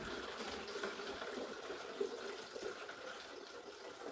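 Distilled water from a heavy home distiller pours into a jug, a continuous soft splashing gush, close and steady, with one brief knock partway through.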